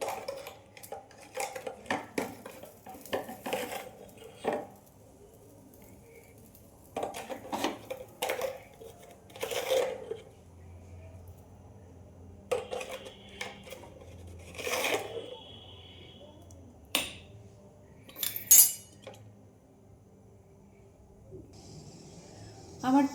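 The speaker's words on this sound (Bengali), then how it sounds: "আমি খিচুড়িতে নুন দিতে ভুলে গেছিলাম, তো নুনটা দিয়ে দিই" A spoon scrapes and clinks against a pot while salt is stirred into Bengali khichdi, a scattered run of metallic taps and knocks with quiet pauses between, close and fairly faint.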